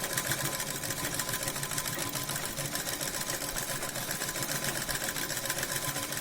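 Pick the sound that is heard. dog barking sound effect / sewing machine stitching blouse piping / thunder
sewing machine stitching blouse piping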